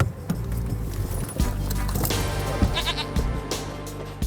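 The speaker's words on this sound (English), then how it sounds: "Who on earth has got a goat in the middle of the Arborthorn?" A goat bleats on a road during a police traffic stop, its cries mixed with clattering, hoof-like knocks and steady background rumble, fairly close and loud.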